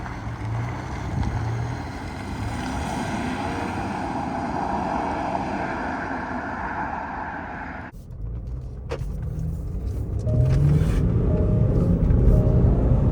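A Range Rover Sport with a 3.0 V6 of 292 hp and 600 Nm accelerates hard, a steady engine roar with wind rush inside the cabin, briefly dipping before rising again louder.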